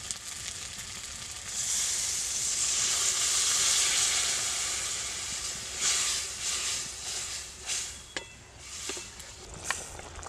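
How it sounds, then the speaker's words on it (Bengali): Water poured into frying masala for a crab curry sets off a loud, close hissing sizzle that swells, then settles into a lower bubbling fry broken by a few light utensil taps. "এবার আমি একটু জল দিয়ে দিব।"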